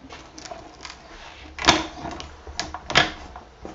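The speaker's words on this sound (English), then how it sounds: "So now I'm going to run this through again because I want to cut out the rectangles." Stamp and Emboss die-cutting machine cutting cardstock rectangles, its plates warped from heavy use: a close mechanical rolling grind with clunks and thumps, the loudest near the middle and again toward the end.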